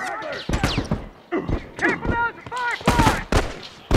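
Gunfire in The Last of Us during a competitive online match: several sharp close shots crack in quick bursts, mixed with game effects and excited voices of players talking over it.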